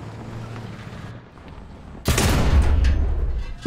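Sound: tank gunfire in the video game War Thunder

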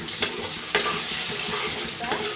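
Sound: eggs being stirred and fried in pan

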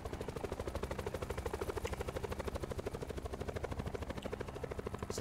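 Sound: helicopter in video game Call of Duty Black Ops 4 Blackout

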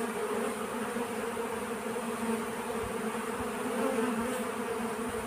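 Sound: honey bees buzzing in hive

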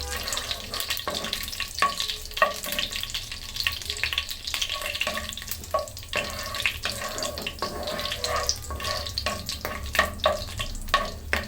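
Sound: garam masala spices frying in a pan

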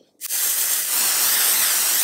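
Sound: makeup setting spray being sprayed

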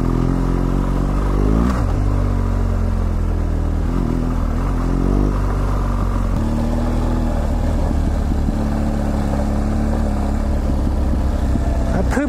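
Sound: BMW GSA motorcycle revving off-road, breaking the tire loose

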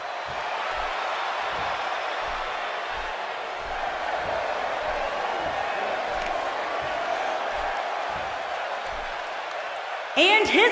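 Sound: arena crowd cheering at wrestling match

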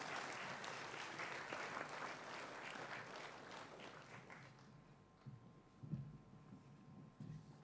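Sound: round of applause for Year 8 Gold recipients

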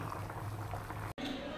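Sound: mackerel fish curry boiling in a pot

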